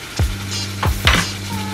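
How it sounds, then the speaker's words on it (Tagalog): Chicken fries in an old pan with a steady close sizzle, broken by a few stirring scrapes and clinks of a utensil against the pan. "So, hayaan nyo lang siya dyan na maprito."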